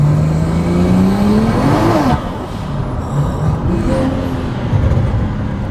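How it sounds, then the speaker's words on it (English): A BMW 335is with an N54 engine and a 1000-horsepower turbo kit accelerates hard, a loud rising engine drone with turbo whine that swells, dips as it shifts and climbs again, heard close from inside. "Dude, it's so loud. Oh my gosh. That turbo sounds amazing though."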